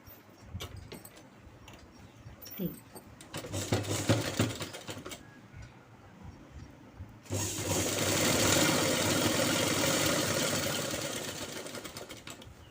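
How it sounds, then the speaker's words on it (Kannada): A sewing machine stitches night pants, first in short clattering bursts with pauses, then in one long, loud, steady run of rapid needle rattling. "ಫುಲ್ ರೌಂಡಲ್ಲಿ ಸ್ಟಿಚ್ ಹಾಕ್ತಾ ಹೋಗಿ"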